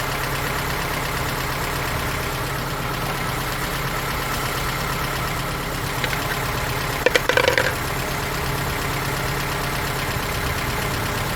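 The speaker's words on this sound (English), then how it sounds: "I hear a little bit of tap, and that's probably because the rock arms needs to be adjusted." A Honda Element engine fitted as a swap idles steadily nearby with a faint, quick valve tap from rocker arms needing adjustment, and a few brief clicks stand out near the end.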